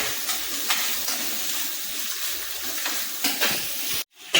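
Three green chillies sauté and wilt in a hot pan, giving a steady close sizzle with occasional stirring scrapes before the sound cuts off near the end.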